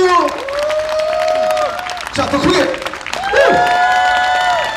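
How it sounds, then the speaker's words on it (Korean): Applause and cheering from a concert audience at an arts center performance swell under a host's loud, amplified voice, with tonal feedback-like hum and crowd noise continuing around the speech. "자, 박수 주세요. 박수!"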